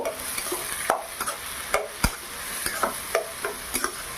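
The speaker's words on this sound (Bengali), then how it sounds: "এবার হালকা নেড়ে চেড়ে নেব" Green chilli, chopped tomato and Kashmiri chilli powder get stirred in a hot pan for a straw-mushroom chorchori, with repeated sharp scraping clicks of a spatula over a low, steady sizzle.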